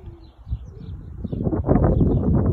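A pigeon feeding alongside quail and rabbits gives low, soft throaty coos, close and repeated, building over the last second and a half, with faint rustling behind.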